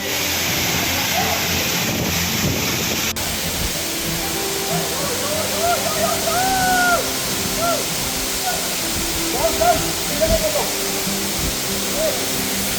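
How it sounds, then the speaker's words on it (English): Sarugudu waterfall roars as a continuous broadband rush throughout, with friends' voices chattering over it and wind buffeting the microphone. "Right now we are in Sarugudu waterfall."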